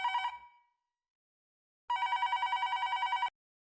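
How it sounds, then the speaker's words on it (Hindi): A telephone ringtone sounds loud and close, with the tail of one ring fading out, then a gap, then one longer pulsing ring that cuts off abruptly, heard alone without talk. "अरे बाप रे, अभी किसका फोन आया होगा?"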